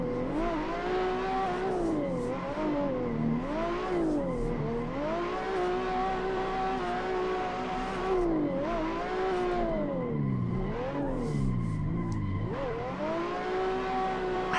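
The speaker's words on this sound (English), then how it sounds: "This has to be the longest uphill drift I've ever done." A car drifts a long uphill road in Assetto Corsa, its engine holding a loud, steady rev that rises and dips with throttle changes, with tyre scrub underneath, continuous and close throughout.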